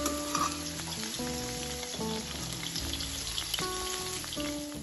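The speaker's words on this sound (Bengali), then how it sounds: "আমি আলু এবং ডাঁটাটা ভেজে নিয়েছি" Potatoes and drumstick pieces sizzle steadily in hot oil while being fried, a continuous close crackle with occasional stirring and clinks, no talking.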